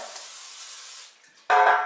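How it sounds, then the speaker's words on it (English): Cooking oil spray hisses into a king size baking pan in one long steady burst, a short pause, then a second louder, closer spray; no talking. "I just use the spray oil."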